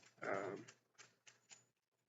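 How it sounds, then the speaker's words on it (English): Light, quick clicks of dog claws on a hard floor, a handful of scattered taps following a brief louder scuffle, then quiet. "That is the dog's claws running across the floor."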